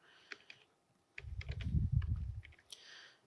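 Computer keyboard typing in short bursts: a few light clicks, a brief pause, then a quick run of keystrokes over a low rumble, ending with scattered taps, close and fairly quiet.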